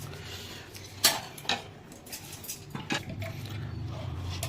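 A kadai wok being picked up and set down in a home kitchen, with a couple of sharp metallic clanks and knocks against a low steady background hum, no talking.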